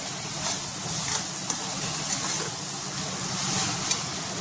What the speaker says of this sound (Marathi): छान कांदा मिरची भाजून झालेली आहे, लसूण वगैरे